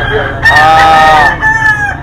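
A rooster crows loudly nearby among a flock of chickens, its long wavering call rising and holding before a second crow starts, with clucking and faint voices in the background.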